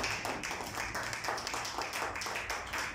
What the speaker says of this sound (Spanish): Denle un fuerte aplauso al Señor en esta noche